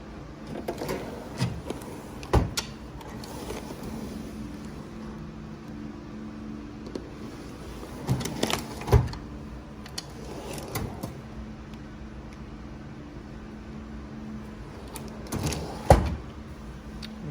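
Hospital anesthesia supply drawers slide open and shut in a few separate bursts, with soft clunks and rattles of stocked supplies against a steady room hum, fairly close and moderately loud.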